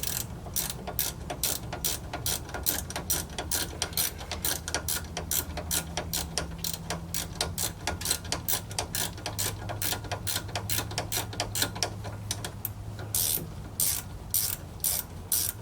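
A ratcheting open-end wrench clicks rapidly and evenly while working on the passenger intermediate shaft and CV axle of a 2010 Dodge Avenger RT 3.5 L, the close, crisp ratchet ticks continuing throughout without talk.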